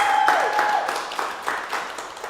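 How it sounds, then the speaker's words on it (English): A crowd claps and applauds steadily, fading gradually over a couple of seconds. "So let's get a big round of applause"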